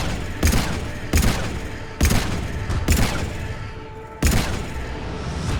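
Weapon fire aimed at Reapers in Mass Effect 3, with five heavy, booming shots spaced about a second apart, each trailing off into a rumbling decay.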